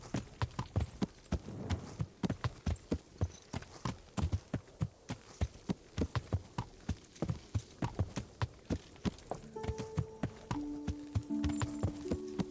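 Horse hooves clip-clop in a steady rhythmic gait in the video game Kingdom Come: Deliverance, close and clear, with a faint tonal chime near the end.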